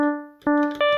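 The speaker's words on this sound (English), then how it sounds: "Then it turns into a saw shape," Elektron Digitone bass synth with its harmonics shifted into a saw-shaped waveform, three rounded bass notes struck in quick succession, each with a sharp onset and a steady, buzzy tail, loud and alone.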